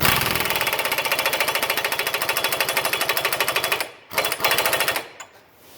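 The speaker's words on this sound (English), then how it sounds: "now I'm going to go ahead and use the impact gun and tighten this on" A pneumatic impact gun tightens the axle nut on a front-wheel-drive CV shaft, hammering in a loud, rapid, steady rattle for about four seconds, then firing two short bursts before stopping.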